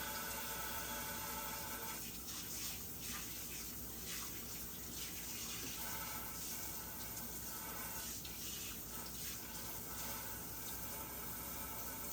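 Steady rushing spray of water from a tap, continuous and close, with no voices.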